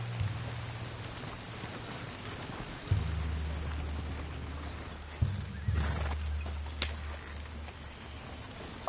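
Horse riding in Red Dead Redemption 2 during rain: a horse whinnies and snorts over a steady low rumble of hooves and rainfall, with a few sharp knocks, moderately loud and without speech.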